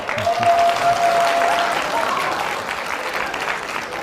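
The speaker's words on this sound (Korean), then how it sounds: "여러분 박수 한번 보내주십시오." Applause from a young audience at a lecture on becoming an artist, cheering a student who plays piano; steady clapping from many hands fills the room, with a brief voice and a short whistle-like tone near the start.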